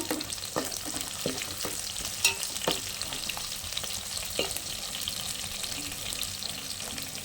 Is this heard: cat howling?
no